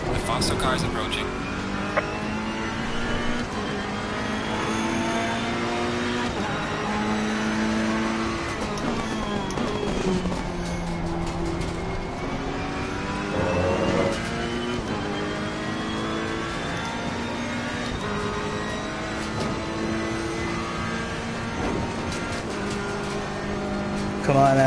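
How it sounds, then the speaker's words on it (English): A race car approaching on the Bathurst circuit in the Assetto Corsa Competizione video game: continuous engine drone with rising and falling revs throughout, gear changes and another car closing in. "The faster car is approaching."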